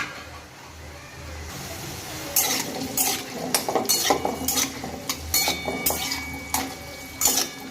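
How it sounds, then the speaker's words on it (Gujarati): Potatoes fry in oil over high gas flame, a soft sizzle underneath repeated metal clinks and scrapes of a utensil stirring in a pan. "આપણા બટાકા ફ્રાય થાય છે"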